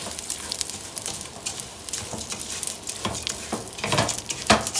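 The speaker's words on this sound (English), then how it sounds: "We add them in, and you start fry" Rice frying together with nuts in a pan, with steady sizzling and stirring scrapes throughout, louder bursts of crackle near the end; no voices.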